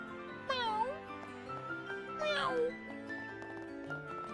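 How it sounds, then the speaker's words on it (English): A cat meows twice in the video game Trails in the Sky, a short descending call and a later rising one, clear over steady game music. "Oh, look, little kitty cat."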